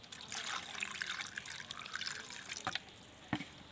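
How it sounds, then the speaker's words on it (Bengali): Cut pond crabs are rinsed in clean water, with steady splashing and trickling, a few sharp clatters of shell against a dish, and drips near the end, close by and without talk. "এবার আমি পরিষ্কার জল দিয়ে ভালো করে ধুয়ে নেব।"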